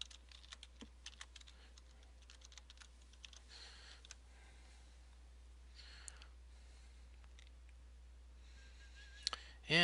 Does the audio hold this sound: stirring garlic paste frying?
no